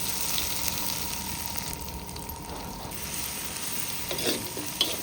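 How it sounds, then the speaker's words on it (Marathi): Onion and garlic with cumin sautéing in hot oil in a brass kadai, a continuous low sizzle with faint stirring scrapes, close and fairly quiet, no talking. "चांगलं परतून घ्यायचं चांगलं लहान होईपर्यंत कच्चेपणा निघून जायचं कांद्याला"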